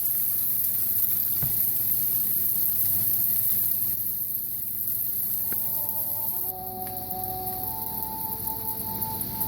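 Steak sears in hot oil in a pan for steak au poivre, giving a steady, close sizzle and spatter throughout with no talk, a brief sharp click early on and a few faint tonal squeaks toward the end.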